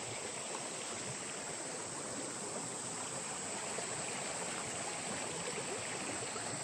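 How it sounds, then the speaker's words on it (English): A small creek flows at a hiking trail crossing in the Gold Coast hinterland, a steady, even rush of water close by, with no speech over it. "Just come up to a half decent little creek crossing."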